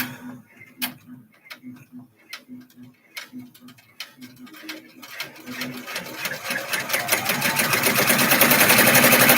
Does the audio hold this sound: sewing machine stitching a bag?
yes